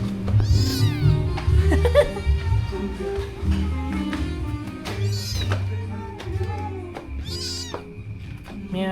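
A cat meows repeatedly and loudly up close, several drawn-out, wavering cries spread across the stretch, with a few quieter sounds between them.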